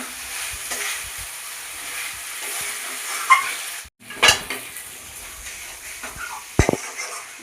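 Potatoes are sautéed in mutton curry masala, giving a steady frying hiss broken by a handful of sharp scrapes and clinks as the pan is stirred, with a brief gap partway through.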